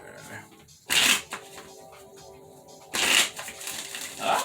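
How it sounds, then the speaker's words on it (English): Tarot cards shuffled by hand in two quick riffling bursts about two seconds apart, crisp papery flutters over a quiet room with faint background noise between. "Let me do 2 more shuffles because I just feel like it."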